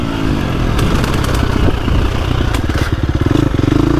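A 2025 KTM 350XCF dirt bike engine lugs in second gear on a tight woods trail. A loud, close, continuous engine note with rough pulsing beats runs through the clip, and faint clatter sits underneath.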